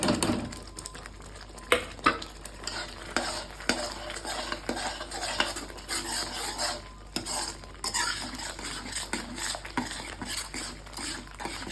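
A metal spoon scrapes and stirs ground coriander and cumin with fish in a pan during sautéing, giving repeated clinks and scrapes over a soft sizzle, close and without talk.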